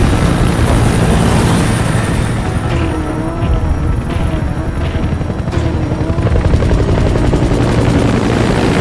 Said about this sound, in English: Extraction, a support helicopter requested.